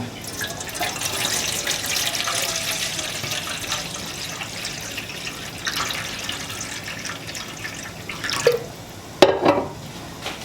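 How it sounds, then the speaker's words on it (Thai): Water running into a pot while rinsing chicken for a home-style Thai dish, a steady splashing stream with rising and falling flow, then a few sharper clunks and splashes near the end. "เติมน้ำลงไปนะครับเหมือนเดิม"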